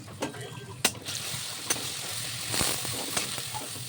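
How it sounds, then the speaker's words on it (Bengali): Greens such as taro or ash gourd leaves fry in a pan with a soft, crackling sizzle, marked by several crisp knocks and scrapes as a utensil turns them over. "এভাবে নাড়াচাড়া করে নেব।"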